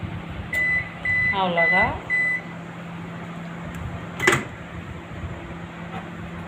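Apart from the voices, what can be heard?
microwave oven running and finishing, drying chili peppers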